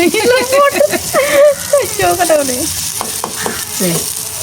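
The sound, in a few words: food frying and being stirred in a pan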